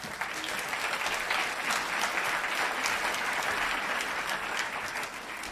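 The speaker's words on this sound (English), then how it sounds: "Give Alistair a round of applause" Delegates at the SNP Annual Conference give a minister a round of applause, dense, even clapping filling the hall at a steady level from start to finish.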